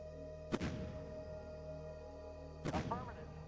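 Artillery in the strategy game Shadow Empire fires two separate rounds, each a sharp, loud boom followed by a rumbling decay, about two seconds apart over a steady low background hum.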